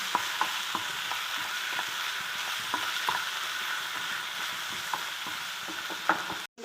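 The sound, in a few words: chicken being stirred and fried in a pan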